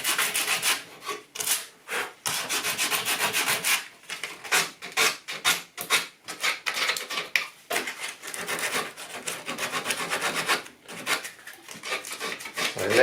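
Sandpaper rubs over soft, crumbling rotten wood on a wooden table leg in a run of brisk, raspy strokes with short pauses between them, close and fairly quiet, no talking.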